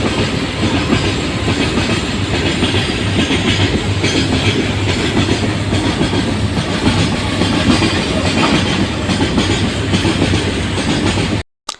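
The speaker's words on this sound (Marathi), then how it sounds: "होय वरून ट्रेन जात होती" Freight train rolling over a bridge above water, a loud steady rumble with rhythmic clickety-clack of wheels on rails, continuous and close throughout before cutting off abruptly at the end.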